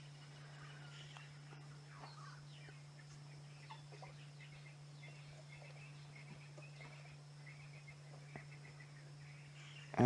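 A guinea fowl calls on a live African safari drive at sunset, repeated harsh gobbling clucks sounding faint and distant over a steady low vehicle hum, with no one talking.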